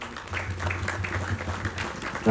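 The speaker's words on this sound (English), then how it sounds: "I want you to give my Shishya, Navin Guruji, a nice round of applause" An audience at an outdoor Ramayan gathering in a park gives a steady round of applause for a couple of seconds, with a low hum and some voices underneath.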